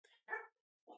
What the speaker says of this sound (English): Sorry for the dogs in the back.